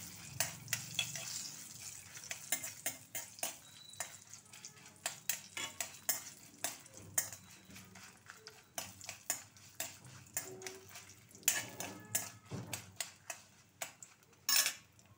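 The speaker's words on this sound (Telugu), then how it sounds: "అదిగోండి వేయించేసుకుంటున్నాను." Chilies and fenugreek frying in hot sesame oil with crackling sizzle and frequent spoon-against-pan scraping and stirring clicks, close up, no talking.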